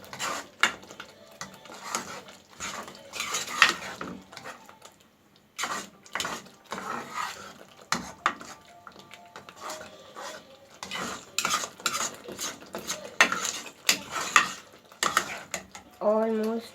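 Masala for chicken karahi fries and is stirred in a pan as the oil separates, with repeated scraping and clinking of a spoon against the pan in irregular bursts, close and moderately loud, with a brief voice near the end.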